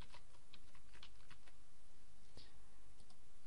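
Rapid keystrokes on a computer keyboard, a search term being typed into a WordPress plugin search box, with irregular clicks and a steady low background hum throughout.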